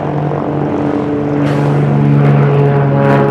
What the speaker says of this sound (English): Well, it doesn't look like that airplane's coming. Well, here it comes.